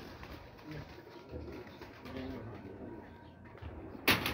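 Sialkoti breed pigeons coo softly in low, repeated bursts close by in a loft, with a sudden bang near the end.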